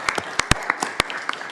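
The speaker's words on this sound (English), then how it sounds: "if you don't mind giving him a round of applause for his help and professionalism" Scattered applause during a House Homeland Security Committee markup, a small group of people clapping in loose, uneven separate claps rather than a full roar, fairly close in a hearing room.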